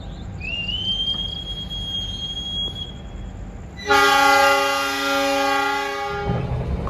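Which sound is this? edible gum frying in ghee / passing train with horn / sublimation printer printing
passing train with horn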